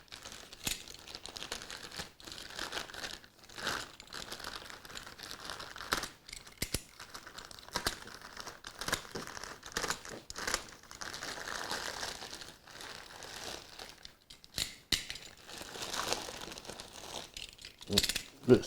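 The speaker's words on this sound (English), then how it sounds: "let's cut it open. Try not to damage anything." Neewer 660 video light packaging being cut open and unwrapped, with steady crinkling, rustling plastic and cardboard handling throughout, some short sharp taps and scrapes, and someone talking intermittently over it.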